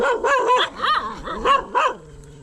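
A dog barks several times in a mountain village in Salem district, Tamil Nadu, with loud, close, repeated barks and yips arriving in an uneven rhythm over about two seconds and no talk alongside.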